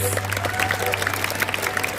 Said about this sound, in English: round of applause for Team Ivy, please.